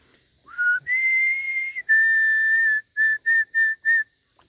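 A person whistles outdoors at a lake, one rising note then two long sustained tones followed by four short repeated calls, clear and close with nothing else around.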